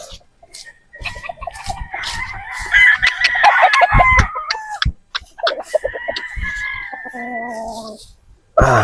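A straight comb 50-50 gamecock rooster crows loudly and close by, with long drawn-out calls broken by short clucks and knocks.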